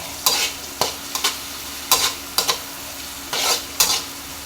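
Dried anchovies and egg sautéing in a pan, with repeated sharp scraping stirs of a utensil over a soft steady sizzle, about eight strokes in irregular rhythm, close up and alone.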